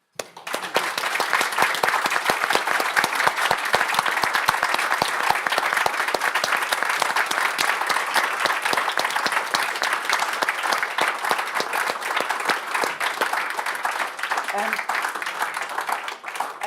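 An audience at a book event for new fiction by Afghan women applauds the writers, with dense sustained clapping from a large crowd filling the room for over fifteen seconds.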